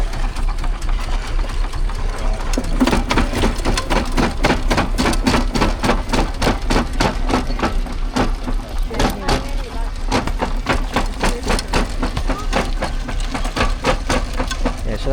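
A steam-driven Goodwin rock crusher pounds away up close at a steam rally, a steady run of heavy rhythmic thumps over a continuous mechanical rumble, with faint voices around it.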